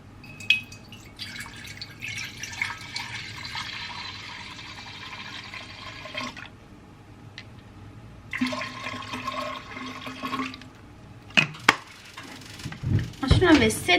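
Juice, 500 ml of it, is poured from a bottle into a container in two sustained splashing, gurgling streams separated by a short pause, followed by a few brief knocks and clatters.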